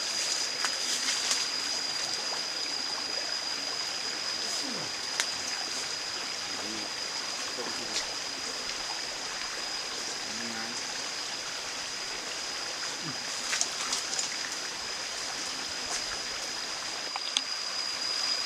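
Flowing water of a forest stream, a constant gentle rushing and trickling wash running the whole time, with a thin steady high insect-like whine above and a few faint knocks and movements nearby.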